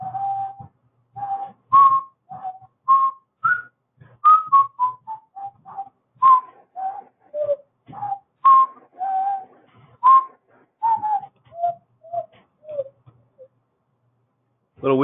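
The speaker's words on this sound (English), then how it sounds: "whistle the Jeopardy theme" A person whistles the Jeopardy theme alone, a clear close melody of short phrased notes with brief breath pauses, tapering weaker toward the end.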